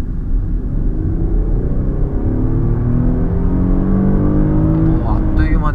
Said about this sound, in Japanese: じゃあちょっとこれから100まで加速します。